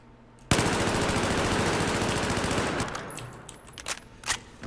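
A sustained burst of ACWR rifle gunfire in Battlefield 4, fired while moving, rattles in a rapid, loud automatic stream for over two seconds, then tails off into scattered clicks and shuffling sounds.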